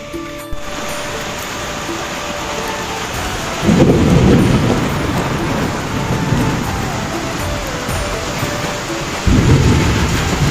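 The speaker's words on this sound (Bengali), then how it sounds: "সৌদি আরবের মক্কায় দেখেন প্রশান্তের বৃষ্টি" Heavy rain pours steadily in Mecca, Saudi Arabia, as two loud rolling thunderclaps break in, the first long and rumbling, the second starting near the end.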